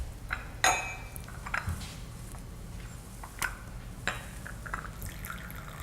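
Coffee poured into a cup during a soft brew method, with small liquid splashes, drips and clinks of ceramic and utensils, quiet and close, no talking.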